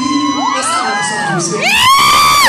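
An audience at a live comedy show cheering, whooping and shouting together, loud and close, swelling into a burst of excited cheers.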